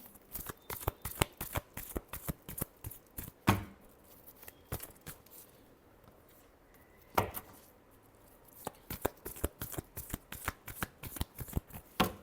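Tarot cards being shuffled by hand, with rapid riffling flutters in quick rhythmic bursts, two sharp bridging snaps and a short quiet pause in the middle, close and clear with no talking.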